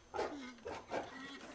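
Robot dog in the video game Septerra Core gives three short, quiet bark-like yelps with a growly, processed tone, evenly spaced over about a second and a half.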